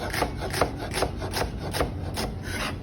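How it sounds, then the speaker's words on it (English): A knife slicing a halved head of Treviso radicchio into thin strips, about seven quick, even crunching strokes in a steady rhythm, heard up close with no talking. "I'm gonna split it right down the middle, and I'm just gonna cut thin strips of it."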